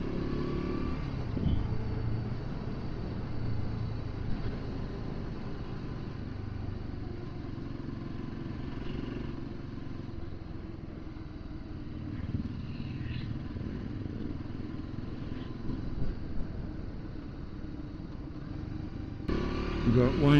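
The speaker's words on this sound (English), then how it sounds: "You've got Wayne leading the way on his DR650, and then his son on his DRZ400." Suzuki DR650 and DRZ400 dual-sport motorcycles ride through the Glasshouse Mountains area, their engines a steady, moderately distant drone with occasional revs, heard alone without talk.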